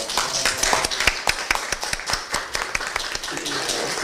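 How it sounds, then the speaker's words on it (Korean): Applause at a Democratic Party flood-relief donation ceremony as party leader Lee Nak-yon hands over the fund: steady, close clapping from a small group runs for the full four seconds, with no talk over it. "큰 박수 부탁드립니다"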